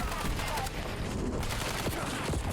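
Rapid gunfire from a Call of Duty Black Ops 7 match, a dense, continuous burst of shots filling the whole stretch at steady loudness, with a voice talking faintly over the shooting.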